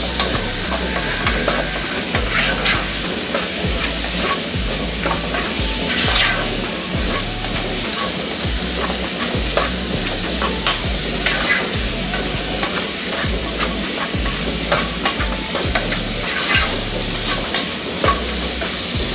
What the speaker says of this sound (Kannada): ಹಸಿ ಘಾಟೆಲ್ಲ ಹೋಗೋ ತನಕ ಇದನ್ನು ಎಣ್ಣೆನಲ್ಲಿ ಇದೇ ರೀತಿಯೇ ಫ್ರೈ ಮಾಡ್ಕೊಳ್ಳೋಣ